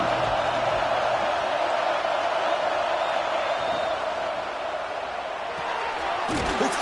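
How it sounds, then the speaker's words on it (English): Stadium crowd roaring steadily at a Florida vs Auburn college football game as the Gators drive in the red zone, a dense sustained cheer filling the whole span with a play-by-play voice over it and a sharper burst near the end. "the crowd coming to life here, trying to help this defense down in the red zone"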